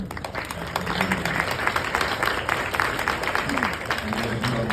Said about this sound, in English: So can we just take a moment and give them a round of applause